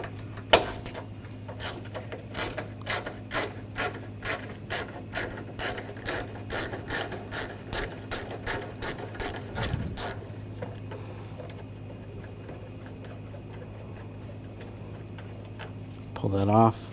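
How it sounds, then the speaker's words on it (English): A 10mm socket ratchet backing a bolt out of a 2004-2008 Ford F-150 ticks in a steady series of crisp clicks, close and clear over a low hum, then stops. "With a 10mm socket, we're going to take this bolt out."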